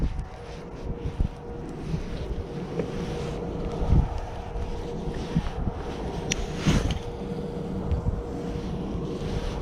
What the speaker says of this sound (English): It's very windy, like 14-mile-per-hour winds right now.